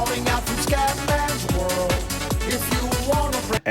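A song plays straight from an iPhone screen recording at its native audio quality: steady beat-driven music with punchy, regular hits throughout, loud and full, ending in a brief dropout just before the end.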